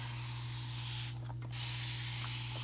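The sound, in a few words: spray bottle spraying onto chalk transfer mesh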